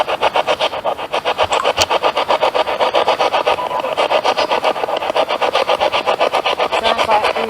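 Rapid, steady chopping bursts of radio static pulse continuously as a spirit box receiver sweeps through stations, loud and close with no talking.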